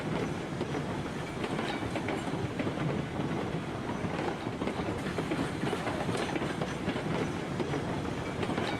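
A train rolls along rails down a grade in the video game RailRoads Online, giving a continuous rumble of wheels and track clatter that stays steady throughout with no voice over it.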